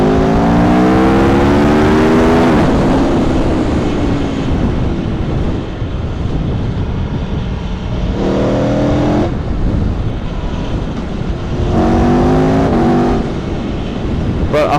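A 2018 Aprilia Tuono V4 1100 Factory motorcycle accelerates hard through the gears, its quick shifter snapping off rapid upshifts with brief cuts in the rising V4 engine howl, close and loud over heavy wind rush.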